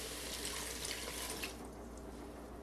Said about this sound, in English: And now I'm going to add a cup of water.